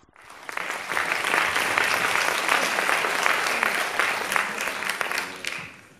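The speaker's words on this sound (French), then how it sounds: "Ça, c'est des applaudissements de digestion du dimanche après-midi" A seated audience at a screenwriting pitch competition applauds the jury president, a dense, steady wash of many hands clapping that swells in, holds for several seconds and tapers off near the end.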